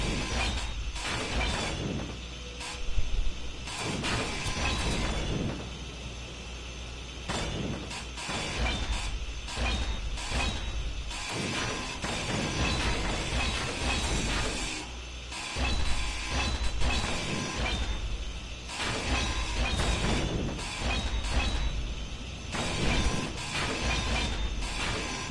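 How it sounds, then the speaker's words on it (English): A grinder in a survival video game chews down small grids with a loud, continuous metallic rasp and scraping clatter, ongoing throughout. "It's always so touchy trying to grind down these small grids."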